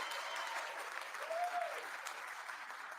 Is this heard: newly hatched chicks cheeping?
no